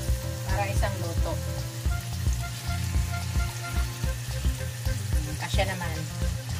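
Four pieces of steak fry together in a pan, a steady close sizzle broken by occasional clinks and shuffling as the meat is moved.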